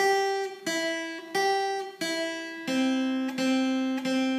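A guitar plays a simple melody of sustained, plucked tones, about seven notes in steady rhythm with clear ringing harmonics, played alone.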